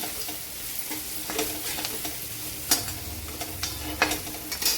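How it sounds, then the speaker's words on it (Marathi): Spices being stirred in a sizzling pan while making chana usal, with repeated scraping strokes of a spoon over a steady frying hiss, the strokes landing irregularly and growing busier toward the end. "आता हे टाकल्यानंतर छान मिक्स करून घ्यायचं"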